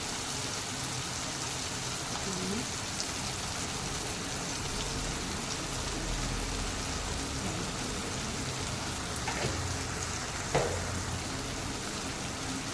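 A steady, even sizzle of egg gravy masala with chili powder sautéing in hot oil, a constant crackling hiss with a few faint clinks, and no voices.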